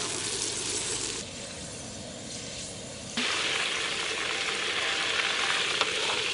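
Beetles deep-fry in hot oil while being stirred, a dense, close sizzling hiss that drops slightly, then surges louder partway through, with faint stirring scrapes and no speech.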